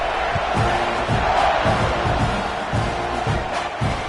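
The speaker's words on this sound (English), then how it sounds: "They're set to kick it off, and this crowd now ready to get behind them." A football stadium crowd roars steadily just before kickoff, a dense, loud wash of cheering and shouting with rhythmic thumps pulsing underneath throughout.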